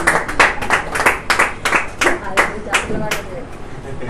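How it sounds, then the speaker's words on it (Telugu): A congregation at a family prayer gathering marking a birthday claps in a quick, even rhythm, with many hands striking together close by for several seconds before fading. "చప్పట్లు కొడదాం"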